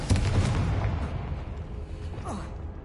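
The Confringo blasting spell from the Hogwarts Legacy video game explodes in a deep boom that decays into a rumbling tail, with a faint whooshing effect near the end.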